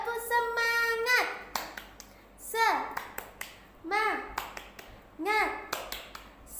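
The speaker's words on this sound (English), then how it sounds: "Now we continue to clap." Young preschool children chant in unison, breaking into short bursts of group clapping between the chanted phrases, a rhythmic call-and-clap pattern in a classroom with a teacher leading.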